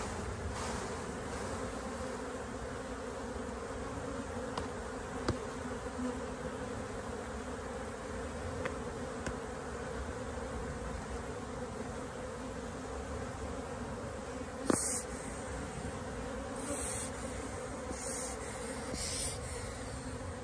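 Honeybee colony buzzing steadily at the hives during the pre-wintering and wintering stage of the beekeeping season, a continuous close hum with a few brief sharper clicks near the end.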